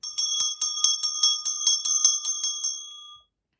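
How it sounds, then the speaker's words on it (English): A small handheld bell rings before a spell chant, struck in a quick even series of about a dozen bright metallic dings with a shimmering ring that fades out after the final strike. "I'm just going to ring the bell and begin to do the chanting portion of the spell"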